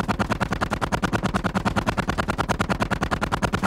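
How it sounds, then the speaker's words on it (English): .50 caliber machine gun fired from a US Army tank during tank school training: a loud, rapid, evenly spaced burst of shots hammering without pause, close by and with no talk over it. "The 50 caliber fires 400 to 500 rounds per minute."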